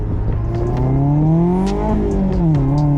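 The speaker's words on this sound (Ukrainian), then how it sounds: "Мені здається, вихлоп зараз буде чутно ще голосніше." A Mazda MX-5 with its roof open roars loudly and steadily, its pitch climbing and dipping as the exhaust growls through revs, close and continuous.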